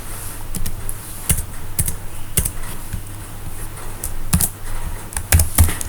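Keys on a computer keyboard are tapped in short, irregular bursts of sharp clicks, close and fairly crisp, with pauses between words over a faint steady hum and no voices.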